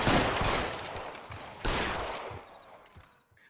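Gunfire in the video game LA Noire, a dense fusillade of sharp shots with a fresh burst partway through, tailing off into faint scattered pops.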